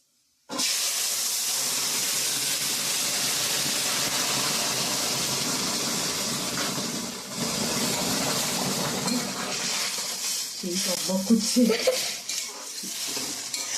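Greens tipped into a pan of sizzling five-spice tempering, giving a steady loud frying hiss that eases around the middle, then scraping and stirring clatter near the end.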